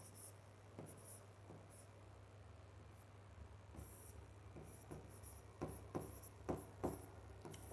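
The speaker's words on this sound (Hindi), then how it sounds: "कुल कार्य अच्छी राइटिंग में लिखते हैं।" Chalk or marker writing on a board during a math lesson, a series of soft scratchy strokes that grow slightly louder toward the end, over a steady low hum.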